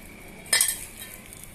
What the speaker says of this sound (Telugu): పిండి ఇలా కలుపుతున్నానండి.